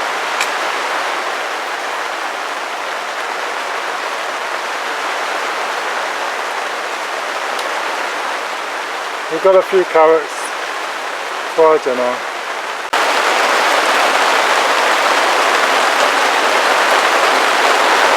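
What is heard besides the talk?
rain coming down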